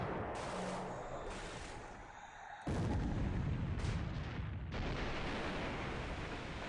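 Naval deck guns, a couple of 4-inch guns, fire in a War in the Pacific naval battle game, heavy booming blasts rolling into one another with a dense low rumble, loud and sustained.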